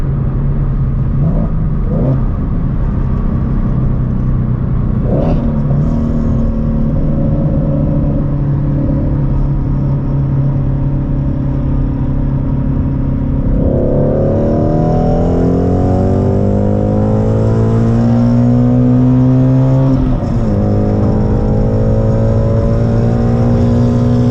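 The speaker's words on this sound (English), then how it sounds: "we're about to do like a third gear roll right now" A Shelby GT350 or 10-speed 5.0 Mustang GT accelerates hard on a third gear roll, a loud sustained engine drone rising in pitch through two long pulls, heard from inside the car without speech.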